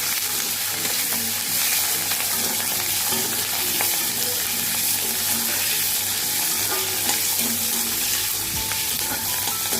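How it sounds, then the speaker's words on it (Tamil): Onions, green chillies and curry leaves sautéing in oil, a steady close sizzle with light stirring scrapes running throughout. "வெங்காயம் பச்சை மிளகாய் கருவேப்பிலை வச்சுருக்கோம் இல்லையா அதை வந்து நம்ம சேர்த்துக்கணும் சேர்த்துட்டு நல்லா வதக்கிடணும்"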